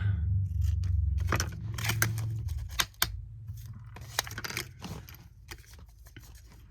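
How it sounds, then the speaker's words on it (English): Scissors snipping the corners of a small paper tag, a few crisp close cuts and clicks spread irregularly over a quiet low hum, with no talking. "I'm just gonna give it a little cut like this. Cut the corners."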